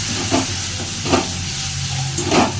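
Water poured into ground spice masala frying in a wok, giving a loud steady hiss and steamy sizzle with a few brief bursts of sputtering.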